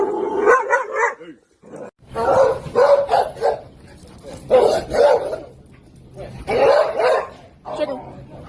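A service dog barks in several bursts of sharp, loud, close barks, separated by short pauses and with some yipping in between.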